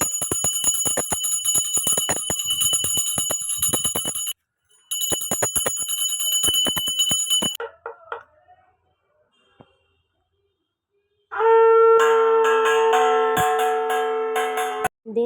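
Brass temple bells ring during a home puja for the Bengali New Year, with rapid metallic strikes in two bursts, then a pause, followed by a sustained tonal blast like a conch shell.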